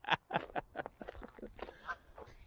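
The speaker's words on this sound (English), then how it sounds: "Off the Canadian geese." Canada geese honk outdoors in a park, a string of loud nasal calls at first that thin into quieter, scattered honks over a couple of seconds.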